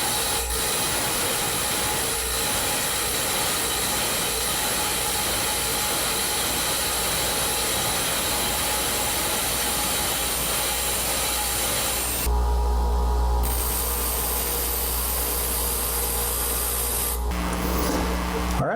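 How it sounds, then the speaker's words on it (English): A tungsten electrode for TIG welding is ground on a spinning grinding wheel, a steady close rasping hiss that goes on for the whole stretch and shifts in tone near the end, with no talking. "If your tungsten is too far down on the wheel, you'll just be grinding a flat spot or a very short taper."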